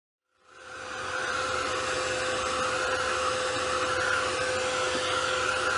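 A hair dryer switches on and runs at a steady whine and whoosh, drying a cereal box scrapbook cover up close, starting from silence and holding constant for several seconds with no talk.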